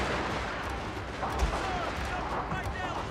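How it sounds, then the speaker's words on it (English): Shrapnel shot artillery volleys in the Fall of the Samurai strategy game, a dense, continuous roar of booming cannon fire and crackling gunfire mixed with battle din, with a voice talking over it. "Shrapnel shot."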